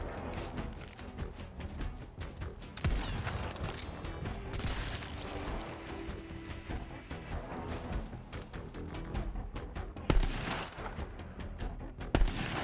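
Dense, continuous game combat from Guns, Love, & Tentacles with shotgun blasts and clanking mechanisms, sharp loud reports standing out near 3 and 10 seconds over a busy, steady bed of action.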